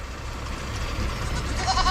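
A goat bleats faintly amid steady outdoor noise in a livestock pen, one or two short calls near the end, with no talk over them.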